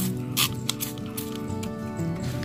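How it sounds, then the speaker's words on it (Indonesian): Liquid sprayed in repeated bursts onto rice husks being mixed for fermentation, giving close, hissing spray pulses over a soft rustle of husks. "Kemudian kita ulang lagi penyemprotannya."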